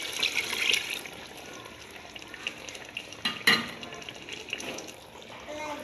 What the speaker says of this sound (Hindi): अब इसमें जो यखनी मैंने निकाली थी ये शामिल कर दूंगी।